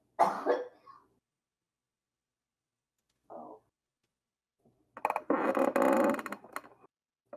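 Coughing from someone whose food went down the wrong pipe: a short burst of coughs, then one brief cough after a pause, then a longer harsh, rough fit of coughing and throat-clearing, loud and close.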